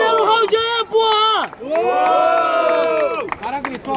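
A crowd at a rap battle cheers and shouts loudly and continuously, with high whoops and whistling voices layered over the roar, briefly dipping before surging again.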